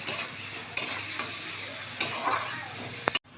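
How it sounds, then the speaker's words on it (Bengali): Chopped onion, green chili and garlic fry loudly in hot oil for an eggplant curry, a steady close sizzle broken by several sharp scrapes of a spatula stirring the pan, with no voices. "পেঁয়াজ লঙ্কা কুচিটা দিয়ে দিলাম, রসুন কুচিটাও দিয়ে দিলাম। এবার একটু নেড়ে চেড়ে ভেজে নেব।"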